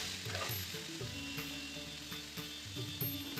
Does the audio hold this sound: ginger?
yes